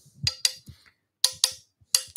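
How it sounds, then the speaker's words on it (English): A small pin hammer taps the blade of a curved-bottom Lie-Nielsen spokeshave in a woodworking shop, giving sharp metallic clicks that come in close pairs separated by short silences. "I need to use pin hammer."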